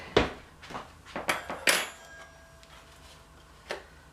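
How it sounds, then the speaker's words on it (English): An egg cracked and beaten with a fork in a bowl: a few sharp clinks and taps spaced over the first two seconds, then quieter faint scraping with one more clink near the end, with no talking. "So just gonna crack and break an egg"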